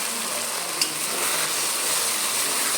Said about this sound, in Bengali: বেশি ভাজা হয়নি তাই আলুটাকে আর একটু ভেজে নেব